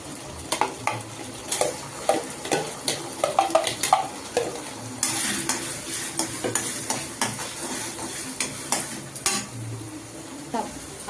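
Ginger garlic paste fries in a hot pan, a steady close sizzle with repeated spoon scrapes and metallic clinks as it is stirred.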